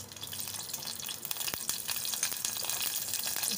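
Whole garam masala spices sizzle in hot oil for matar pulao, a steady, close crackling fry with a few sharp pops and light stirring, no talking.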